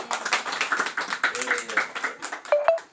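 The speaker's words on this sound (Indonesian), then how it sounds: "Tepuk tangan." Children in a classroom clap together on cue, a run of quick, uneven handclaps close by, with voices mixed in and a pair of brief tones near the end.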